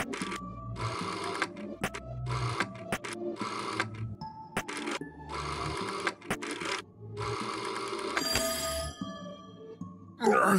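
A telephone rings in a video game, with repeated bursts of a mechanical bell ringing in a steady pattern, closely spaced and fairly loud, ending in a brief clattering rattle.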